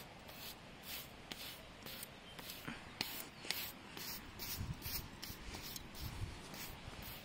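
An American curry comb scrubbed over a horse's coat gives soft, rhythmic rubbing and scratching strokes, close and fairly quiet, repeating about once a second.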